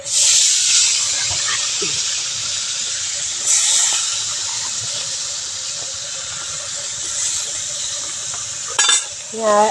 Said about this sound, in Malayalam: നമുക്കത് കോരി എണ്ണയിലിട്ട് കൊടുക്കാം.